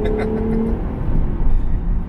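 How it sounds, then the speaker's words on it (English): Acura NSX engine with VTEC, heard from inside the car: a low, droning engine note that climbs in pitch as revs build, loud and close, with some faint talk. "You hear that VTEC?"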